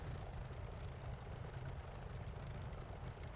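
A P40 aircraft engine in Microsoft Flight Simulator 2020 drones steadily with a dense, even propeller roar, constant and fairly quiet with no other sounds.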